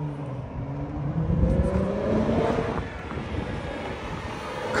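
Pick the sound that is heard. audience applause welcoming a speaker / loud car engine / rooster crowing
loud car engine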